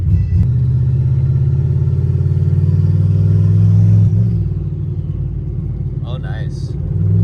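LS-engine car fitted with an On3 turbo kit accelerating under boost, a loud close droning engine rumble holding steady before easing off, with brief voices near the end.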